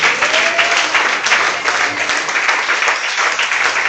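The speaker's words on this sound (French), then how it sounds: "Est-ce qu'on peut acclamer très fort pour Élisée?" A church congregation applauds for Élisée during a French sermon on faithfulness, a loud, dense, sustained clapping that holds steady for a few seconds with no voice over it.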